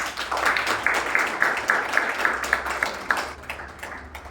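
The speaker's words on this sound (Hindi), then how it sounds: "जोरदार तालियां।" Participants in a morning yoga class clap in a quick, even rhythm, the claps close and moderately loud and gradually thinning out toward the end.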